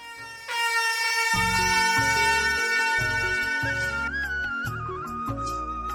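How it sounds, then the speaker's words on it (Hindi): A horn pulled from a bag blasts loudly in a long, sustained tonal honk, wavering slightly as it holds, backed by a pulsing musical rhythm. "वीर अपने बैग से एक हॉर्न निकालता है और उसे जोर से बजाता है"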